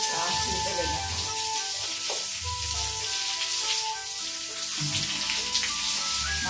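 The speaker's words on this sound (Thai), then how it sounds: "น้ำก็จะไหลออกอย่างนี้" Tap water flows steadily while dishes are washed, a continuous close hiss and splash with some clinking, and someone talks over it.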